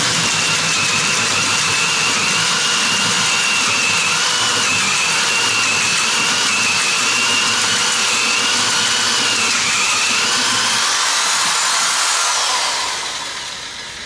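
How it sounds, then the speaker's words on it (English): A power drill bores a cavity into a log for a planter, a loud, continuous close-up whine with a strained motor pitch that holds steady before tapering off at the end. "We'll drill some"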